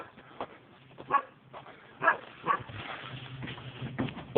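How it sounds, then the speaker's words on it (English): Farm dogs in Las Vegas, New Mexico bark and yip in short scattered bursts at moderate distance, with whimpers mixed in and a steady low background hum. "These dogs right here are not very friendly."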